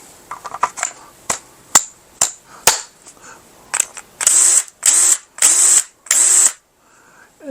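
Clicks and rattles of handling, then a Craftsman V20 cordless drill whirs in four short, loud bursts with brief pauses between them.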